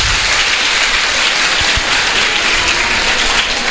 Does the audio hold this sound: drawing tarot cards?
no